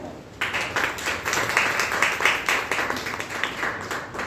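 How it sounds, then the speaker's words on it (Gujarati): Loud applause from an audience at a Women's Day celebration in Vyara, a dense burst of clapping that starts abruptly and continues steadily for several seconds. "જોરદાર તાળીઓ"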